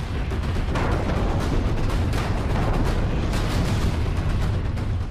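Car bomb blast at a red light in front of the Red Fort in Delhi: a continuous loud, broadband roar and rumble with a heavy low end that holds steady throughout, no voices present.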